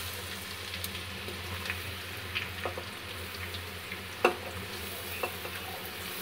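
Onions frying with garam masala in a pot for Awadhi white mutton korma, a low steady sizzle with occasional light stirring clinks, fairly faint and continuous with no voices.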